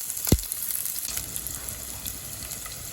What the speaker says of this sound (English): In a pan, heat around 2 tablespoons of oil, add onions